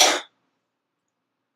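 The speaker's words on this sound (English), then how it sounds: "let me cough." A single short, sharp cough close to the microphone, followed by silence.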